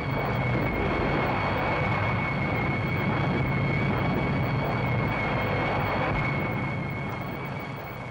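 Jet aircraft roar overhead at an airbase, a loud, steady broadband rumble and whine sustained throughout, easing slightly toward the end, with no voices.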